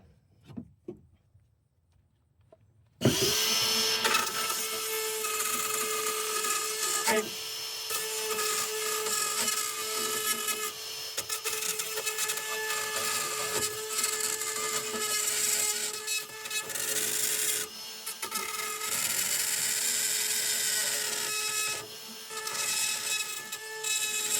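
A drywall cutout rotary tool bites into a buried underground pipe, giving a loud, harsh grinding whine that starts abruptly after a quiet moment and runs on with brief dips and surges as the bit works through the pipe wall.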